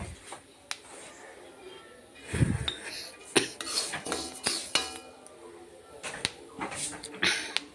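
Horse gram roasting in a pan, popping in scattered sharp clicks and ticks with the occasional scrape or clink of a utensil, close but fairly quiet, a faint voice now and then.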